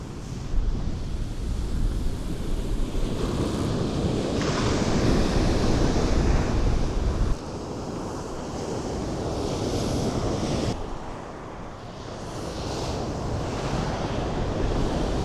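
Surf rolling in steadily on a Florida beach, a broad continuous wash of breaking waves with wind buffeting the microphone, loud and close, the roar easing slightly midway.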